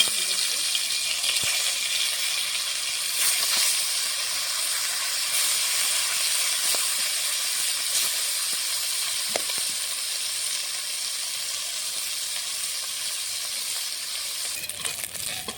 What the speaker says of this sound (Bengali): হালকা তেলেই মাছটা ভাজবো